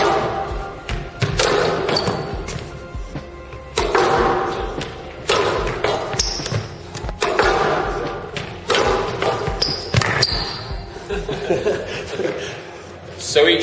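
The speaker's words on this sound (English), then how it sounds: "You're going to hit one down the wall, and then I'm going to play a boast, which is going to hit the side wall and then the front" A squash ball thuds off the front and side walls of a court during a drive and boast drill, a sequence of sharp hollow impacts at an irregular rally pace under talk and echoing footfalls.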